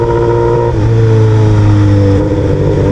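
A Honda Hornet motorcycle accelerating hard on a highway, loud and close, the engine tone rising steadily in pitch as it pulls through a gear over heavy wind and road noise.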